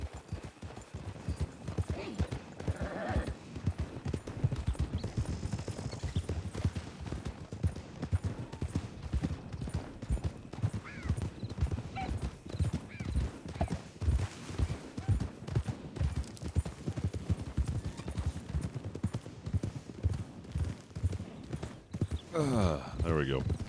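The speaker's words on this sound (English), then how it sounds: "The most unreliable horse in the world." Steady, rhythmic hoofbeats of a ridden horse from a Red Dead Redemption 2 roleplay carry on for over twenty seconds at a moderate, even level with no talking.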